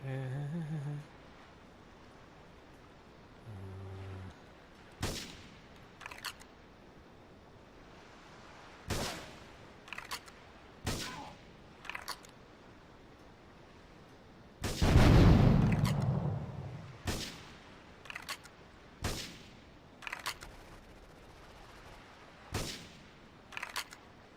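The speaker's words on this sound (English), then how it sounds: "All cars vicinity Portland Harbor investigate reports of gunfire and explosions" Gunshots and explosions from the video game Grand Theft Auto III near Portland Harbor: scattered sharp single shots at irregular intervals, and one big booming blast partway through, set against a quiet low background.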